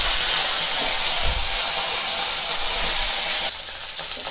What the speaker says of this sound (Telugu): ఇప్పుడు మనము ఇది దూరగా వేగే వరకు ఈ మిరపకాయలని బాండి లోపలనే మూత పెట్టేసి ఉడికిద్దాం.